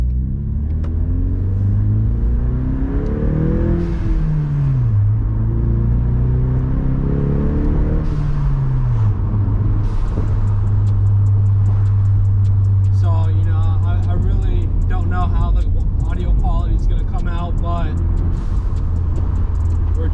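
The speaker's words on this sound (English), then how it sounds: "we're gonna go on a cruise, and that way you guys know how it sounds inside the cab" Cabin view of a 2020 Ford Mustang EcoBoost fitted with a Circuit Concept Garage catback exhaust on a cruise, a steady low engine drone that rises and falls with throttle under continuous talk from inside the car.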